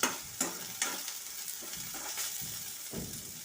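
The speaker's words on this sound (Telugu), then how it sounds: "మాడిపోకుండా మధ్య మధ్యలో కలుపుకుంటూ తిప్పుకుంటూ వేయించుకోవాలండి ముక్కలు." Okra pieces frying in a pan while being stirred, a close, quiet sizzle broken by a few spaced scrapes and knocks of the spatula.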